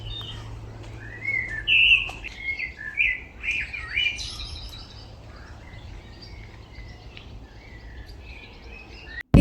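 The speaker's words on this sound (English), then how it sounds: "I hear more blackbirds calling, and also a new bird, the blackcap." Blackbirds and a blackcap sing in woodland, their bright warbling phrases and chirps clustered in the first few seconds, then thinning to scattered calls over a low steady hum of distant background noise.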